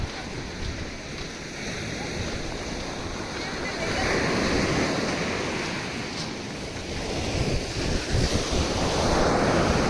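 Surf and steady wind at Tilmati Beach in Karnataka, a remote spot with dark sand: continuous rushing waves with heavy wind buffeting the microphone, swelling louder toward the end, with no voices.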